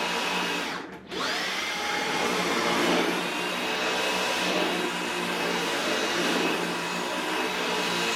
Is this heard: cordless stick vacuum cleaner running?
yes